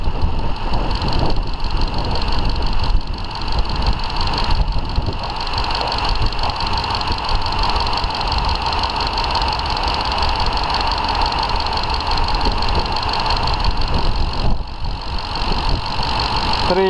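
A warmed-up Lexus LX 570 engine idles steadily at close range, giving a continuous hum with an even mechanical rhythm, and its tone stays constant throughout.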